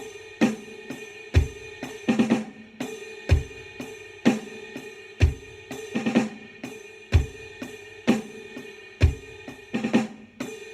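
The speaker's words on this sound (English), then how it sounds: "I'll play everything on just cymbal, snare, and bass." A beginner drum groove played on just a cymbal, snare and bass drum, with drag ornaments: steady, evenly spaced beats with deep kick thumps, crisp snare hits with grace-note drags, and ringing cymbal, played alone.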